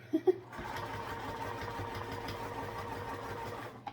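Home sewing machine stitching steadily at a constant speed for several seconds, a close, even mechanical whir after a couple of brief knocks at the start.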